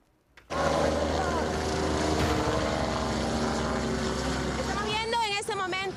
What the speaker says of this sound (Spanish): un helicóptero que acaba de salir de la División de Aviación Policial